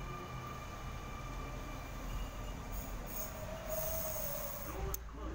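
A Sydney Millennium M set train, set M3 on a Leppington service, pulls out from platform 1 at Toongabbie station, a steady rumble with rising motor whine and faint high wheel squeal throughout.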